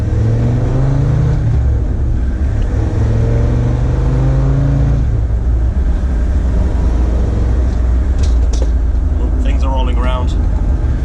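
A Land Rover Defender drives off on the road, its engine a steady loud drone that rises and falls with gear changes throughout, with faint chirps near the end.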